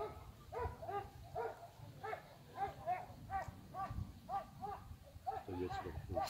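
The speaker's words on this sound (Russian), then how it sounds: "Собаки орут" Dogs bark repeatedly outdoors at a lakeside carp-fishing spot in Velyka Homolsha, Kharkiv region, Ukraine, a steady series of mid-distance yelps and barks over background noise.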